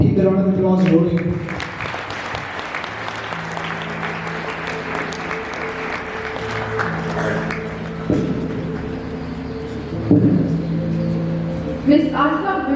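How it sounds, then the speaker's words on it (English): Audience applause at an education forum held at a school: a steady round of clapping runs through most of the stretch under background music tones, with speech at the start and the end. "Ladies and gentlemen, please keep the round of applause rolling."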